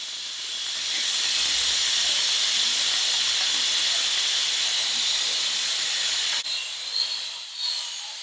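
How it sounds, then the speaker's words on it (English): An electric pressure cooker vents its steam through the release valve, giving a loud, steady hiss right up close that holds for several seconds, then dips briefly with a small click and carries on. "So all the pressure is releasing."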